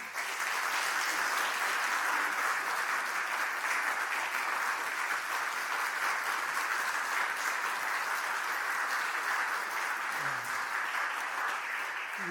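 A church congregation gathered for an Easter baptism and communion service claps steadily and loudly for about twelve seconds. The dense applause holds an even level throughout.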